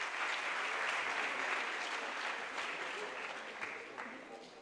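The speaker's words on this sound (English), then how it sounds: "can we have a huge round of applause for Pundarik?" An audience at a National Space Day celebration at IIT Kanpur applauds in a steady, dense round of clapping that fills the room, then slowly fades toward the end.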